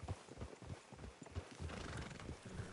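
Horse hooves clip-clop in a steady rhythm alongside neighing in a video game, heard fairly close and quiet with ambient game sound around them.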